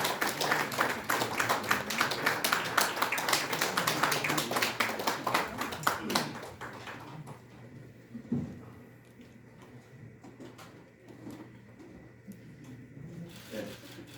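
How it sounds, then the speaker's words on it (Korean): Audience applause at the opening ceremony of a VR memorial hall, dense clapping for about six seconds that then fades to a quieter room with scattered taps and a few late claps. "박수로 환영해 주십시오."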